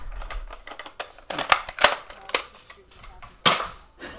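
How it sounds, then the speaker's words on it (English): Foam darts fire from a Nerf gun in a quick irregular string of sharp snapping pops and clacks, close by, with one louder shot near the end. "I keep shooting Kneecapper with a Nerf gun"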